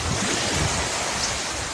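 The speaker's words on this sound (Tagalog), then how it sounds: "lalaki na ng alon, guys." Ocean waves surging in at high tide under dark clouds, a steady broad wash of surf with wind noise, continuous and fairly close.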